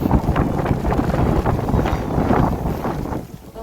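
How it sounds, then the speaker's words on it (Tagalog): Strong wind buffets the microphone outdoors in a city street in Bristol, UK, on Christmas Eve, a steady loud roar with gusts swelling and easing throughout. "Kaya malamig kasi mahangin."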